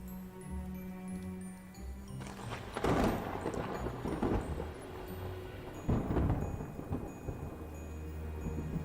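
Rain falls steadily in the video game Tower of Fantasy while two heavy rolls of thunder crash in, each rumbling loudly and then fading back into the hiss of the downpour.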